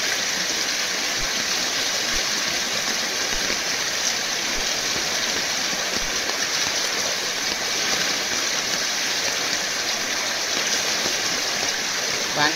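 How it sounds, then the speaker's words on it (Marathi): Water rushes steadily down a rocky stream where crabs are being caught by a traditional method, a continuous close-up gurgle and splash at constant loudness with faint talk in the background. "हे बघा पाणी पूर्ण खाली वाहून नेतंय"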